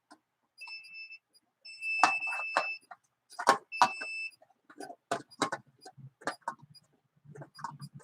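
A detector device beeping in short high electronic tones, several tonal bursts in a row, with clicks and handling noises between them, close and fairly loud, no voices.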